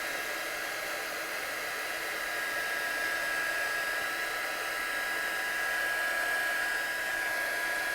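A heat tool blows steadily to dry sparkle pen ink on a stamped card, a constant loud hiss with a high whine running throughout, no speech.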